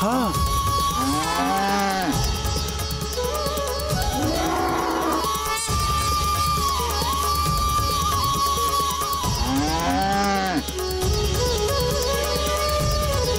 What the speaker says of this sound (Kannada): ಇದು ಗೋವುಗಳ ಸದ್ದು.